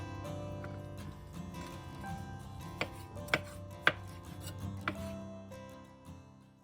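A knife chops fermented skate liver into large pieces on a cutting board, with a handful of sharp, separate thuds spaced about half a second apart over soft background music.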